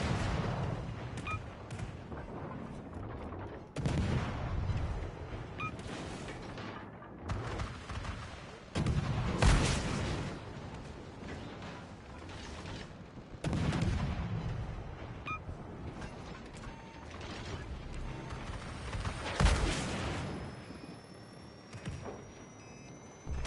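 Naval guns and missiles fire in World of Warships Legends, modern era battle: a steady roar of gunfire with repeated heavy booming volleys, several loud bursts spread through the stretch, with no talk over it.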